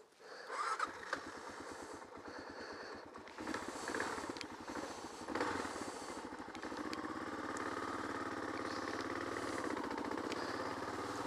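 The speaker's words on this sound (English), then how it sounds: "I'm going to take her for a little ride." A 2001 Kawasaki KLR650 dual-sport motorcycle engine running close by, with a chugging single-cylinder rhythm that settles into a steady, continuous drone as it is ridden off.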